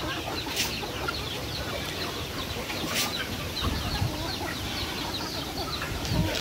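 Rhode Island crossbreed chickens cluck and murmur on a farm in a busy, continuous flock chatter, with occasional sharper calls standing out close by.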